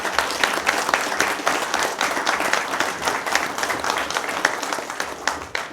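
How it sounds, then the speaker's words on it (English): Audience at a wildlife commission meeting applauding veterans who stand, a steady, dense round of clapping from a nearby crowd that continues without pause. "Folks, let's give him a round of applause."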